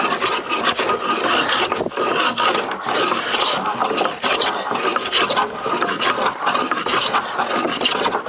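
A hand plane shaves an oak post in long, rhythmic rasping strokes, each a loud, close scrape of about a second with brief gaps between passes, repeated steadily with no talk.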